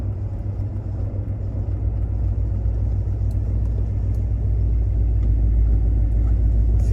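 A 1972 Chevelle engine runs steadily while the car drives in third gear, a loud, close, continuous low rumble and drone from inside the car that builds slightly toward the end.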